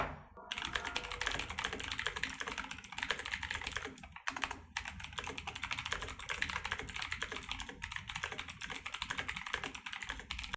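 Rapid, steady typing on an RGB computer keyboard, dense close-up key clatter with only a brief pause partway through.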